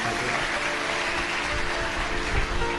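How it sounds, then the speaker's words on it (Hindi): An audience at a religious discourse on Shiva claps loudly for the saints, a dense, steady burst of applause filling the whole moment. "एक बार जोरदार ताली बजाकर संतों के लिए।"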